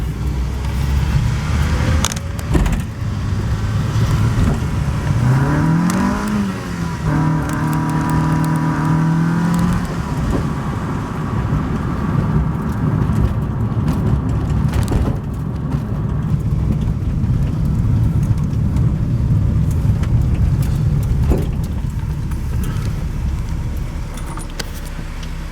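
Car fitted with a swapped Honda B20 VTEC engine running steadily nearby, a constant engine drone with a short rev that rises and falls early on, plus occasional clicks and clatter.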